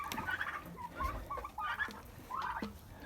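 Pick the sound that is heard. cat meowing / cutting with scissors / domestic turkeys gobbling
domestic turkeys gobbling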